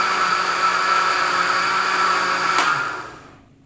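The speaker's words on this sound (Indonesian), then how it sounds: "Kalau kata Kang Med itu ya bisa direbus, tapi lebih baik lagi itu di blender" An electric blender runs steadily, blending an herbal remedy mixture, with a loud, even motor whir that holds for about three seconds and then winds down to silence.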